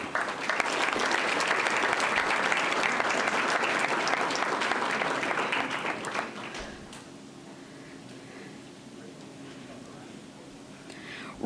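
A school board meeting crowd applauds an eighth-grade student athlete. The clapping is dense and steady for about six seconds, then drops to quiet room tone with faint murmurs.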